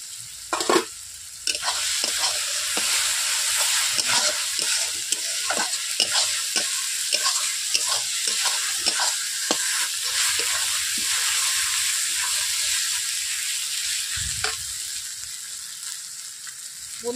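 Garlic and ginger paste with spices frying in a pan for a Bengali-style chicken korma, a steady close sizzle with frequent scraping stirs throughout and no talk.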